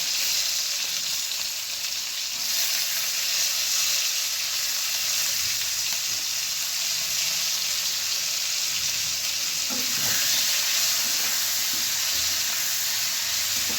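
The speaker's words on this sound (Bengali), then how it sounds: "আলু খানিকটা ভাজা হয়ে গেছে, এই পর্যায়ে আমি দিয়ে দেব পেঁয়াজ কুচি।" Potatoes and chopped onion frying in a pan for a tengra fish curry give a steady, close, loud sizzle, a continuous bright hiss throughout with a brief stir around the ten-second mark and no talking.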